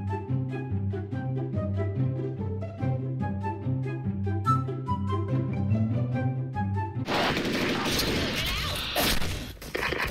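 Rapid bursts of M16A2 rifle gunfire and impacts in a Special Force shooter game over steady harmonic music, turning into dense crashing, noisy blasts near the end.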